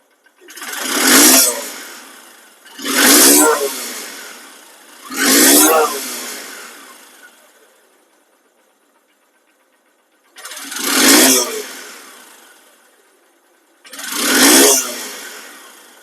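A second-hand Honda SP Shine CBS motorcycle engine is revved in five sharp, loud throttle bursts, each swelling and fading over about two seconds, with a quiet gap midway and no voices.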